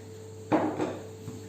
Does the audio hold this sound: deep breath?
no